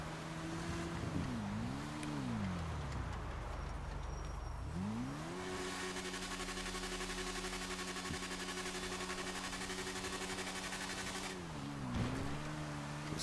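Game motorcycle engine in a snowy setting while pulling wheelies, a loud steady drone that rises and dips in pitch as the throttle is worked, holding high through the middle and dropping briefly near the end, with no talk.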